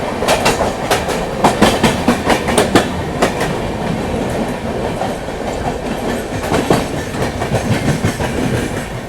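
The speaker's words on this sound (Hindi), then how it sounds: "यहाँ पे अपना पैरेलल हो रहा है बाबा बैजनाथ धाम हमसफर एक्सप्रेस के साथ" Two trains run side by side on parallel tracks, one overtaking the Baba Baidyanath Dham Humsafar Express near New Delhi, with steady loud rumble and rhythmic clickety-clack of wheels over rail joints throughout, no talk.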